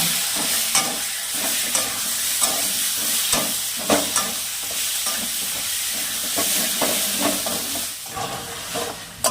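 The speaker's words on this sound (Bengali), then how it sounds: "আদা বাটা পেঁয়াজ বাটা এবার মশলাটা ভালো করে কষিয়ে নেব" Ginger and onion paste with spice mix sautéing in hot oil for a Bengali fish curry, a steady close sizzle and hiss with repeated scraping stir strokes throughout.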